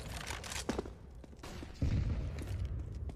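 Gunfire from a professional Counter-Strike match between Imperial and FURIA: a few sharp shots and short bursts crack over game ambience, one heavier blast near the middle.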